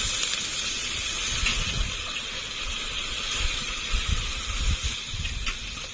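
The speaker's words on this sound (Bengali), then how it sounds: "কষানো হয়ে গেছে, জল দিয়ে দেবো।" Water pours into a hot, fried spice mixture for a rui fish curry with potato and cauliflower, producing a continuous gushing hiss and a steamy sizzle with low bubbling underneath.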